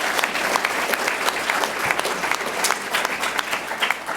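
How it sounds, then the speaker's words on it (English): A crowd at a school funding panel discussion applauds a panelist, dense steady clapping throughout at even loudness. "Give her a round of applause."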